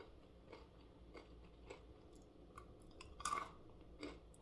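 Close, quiet crunching from chewing coated maple pecans, a few crisp bites scattered over several seconds against a soft background with no talking.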